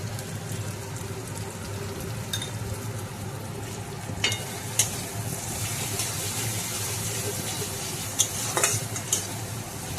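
Tomato and spice masala with a little salt sizzling in a pan while a spoon stirs it, a steady close crackle with occasional sharp scrapes against the pan.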